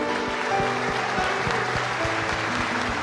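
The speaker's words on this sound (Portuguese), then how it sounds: "Pode aplaudir a ele." A church congregation applauds during an Easter service sermon, dense steady clapping filling the room for about three seconds with a continuous, even texture and a low organ-like tone underneath.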